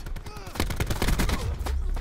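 Rapid automatic gunfire from Call of Duty Black Ops 4 multiplayer, dense bursts of shots crackling close and loud across the whole moment.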